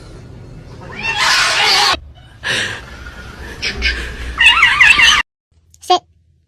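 A cat meows in a home setting, with several short, wavering calls scattered among background noise and a brief quiet gap near the end.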